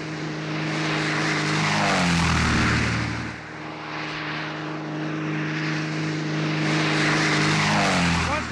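A propeller plane flies overhead near a mining zone and comes in to land on a road, its engine drone loud and near, swelling and then fading slightly as it passes.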